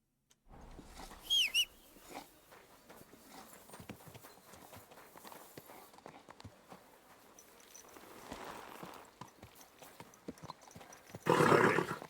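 A horse's hooves clip-clop steadily at a walk in Kingdom Come: Deliverance II, with a brief whinny early on and a louder burst of hoof noise near the end, over faint background ambience.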